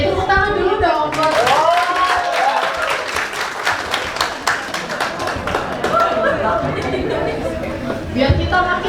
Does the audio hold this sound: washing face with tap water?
no